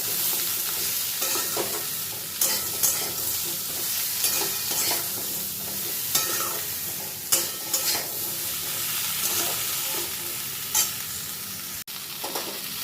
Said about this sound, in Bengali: সব সবজিগুলো মধ্যে নুন হলুদ দিয়ে আমি খুব ভালো করে নাড়াচাড়া করে নিয়েছি।